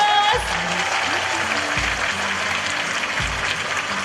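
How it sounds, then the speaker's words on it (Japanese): A fan meeting audience in Tokyo breaks into sustained applause, an even rush of clapping that fills the hall while an amplified host keeps talking over it. "大きな拍手をお願いいたします"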